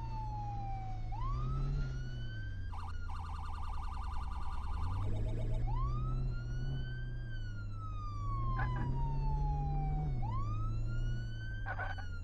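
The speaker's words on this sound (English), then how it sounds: "Can't hear my siren" A police siren wails continuously, sweeping up and down in long cycles, interrupted briefly by rapid warbling yelps, loud and nearby.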